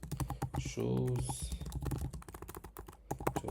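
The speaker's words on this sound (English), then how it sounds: "Now just fill it using your keyboard." Steady computer keyboard typing, quick clustered keystrokes heard beneath a voice speaking continuously, with a brief louder burst of rapid key clatter in the middle.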